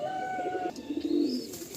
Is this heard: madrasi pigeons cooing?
yes